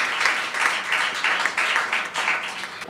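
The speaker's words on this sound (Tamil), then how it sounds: "அவர் பலத்த கைத்தட்டலோடு அவங்கள நம்ம வரவேற்போம்" A church gathering claps to welcome a woman minister onto the stage, a dense, continuous round of applause from a crowd, fairly close and steady, with no speech over it.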